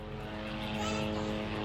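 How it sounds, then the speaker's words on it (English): A fixed-wing propeller airplane drones overhead in a steady, broad rumble that swells slightly toward the end, heard outdoors in Sydney without talk over it. "Airplane!"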